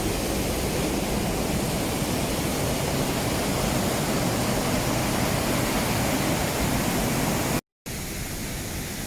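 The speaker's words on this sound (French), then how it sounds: "Et on arrive à la cascade de l'Aigle, le point d'arrivée de la balade" Cascade de l'Aigle, a high-flow waterfall in a gorge near Chamonix, roars as a loud, steady, broadband rush from start to finish, broken only by a split-second dropout near the end.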